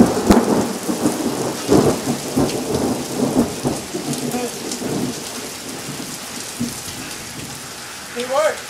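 Rain falls on a street, loudest in the first half with uneven surges. It then settles into a softer, steady patter, and a brief voice-like sound rises near the end.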